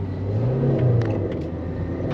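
Car rolling past on a village road in Eastern Europe, a steady engine rumble and tire whir that swells slightly then eases, close and continuous with no talk.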